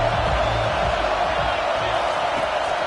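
Loud, steady home crowd roar fills a college football video game stadium during a Colorado versus Washington matchup, a continuous dense wash of cheering and noise with no break.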